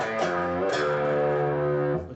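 A heavily distorted electric guitar plays a short riff, a couple of picked notes then a long sustained chord ringing out before cutting off.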